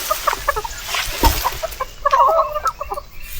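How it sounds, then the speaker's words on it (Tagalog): Several farm chickens cluck busily, a jumble of short, overlapping calls close by that thicken into a denser burst of squawks near the end, with faint ambient noise underneath. "Ang gulo ng mga manok na ito."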